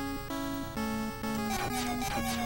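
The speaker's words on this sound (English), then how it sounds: "That's the sound of not having enough MP to use whatever your thing is." Error sound from the Willow video game for not having enough MP: a chain of buzzy electronic tones that step and shift in pitch, played cleanly with no talking.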